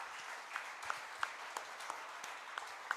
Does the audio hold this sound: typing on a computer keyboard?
no